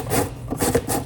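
An 80CrV2 steel knife saws back and forth through cardboard, giving three or four close, rasping strokes in quick succession, loud and scratchy with no talk.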